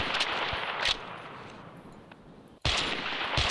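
Gunshots fired at a Plateosaurus in the hunting game Carnivores Triassic: a few loud, sharp cracks spaced a second or two apart over a steady ambient bed.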